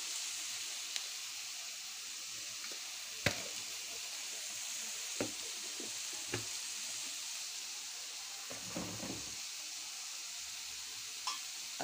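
Cumin and chili masala fry in a pan with a soft, continuous sizzle. A few sharp clicks and scrapes of stirring cut through it.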